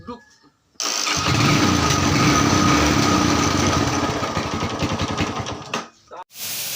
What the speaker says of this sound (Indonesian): jadi dinamo starternya ini sudah berfungsi dengan baik. Sudah kita tes tadi dan terbukti sudah hidup ya